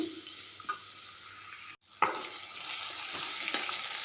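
Onion and ridge gourd peel fry together in a pan with a soft steady sizzle that cuts out briefly, then comes back with scraping stir strokes and a clink.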